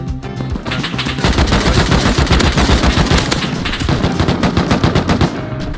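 AK rifle fire in the survival game Rust, loud rapid automatic bursts of gunshots crackling almost continuously with brief gaps, close and dense, with no talk over it.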